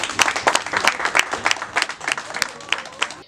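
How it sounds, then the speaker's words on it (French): An audience at a UDPS party election gathers in applause for the newly elected inter-federal president of Grand-Kivu and Grand-Katanga. Steady, lively clapping comes from many hands and fills the room. "si on peut l'acclamer"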